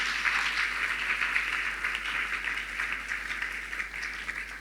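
Congregation applauding in a church, a faint, steady patter of many hands clapping heard from a distance, continuing evenly for several seconds with no talk over it.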